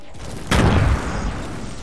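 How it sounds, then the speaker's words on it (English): A grenade blows up in the video game Fortnite: one loud, close boom that lasts about half a second, followed by a low rumbling tail that fades into steady background noise. "They just threw a grenade."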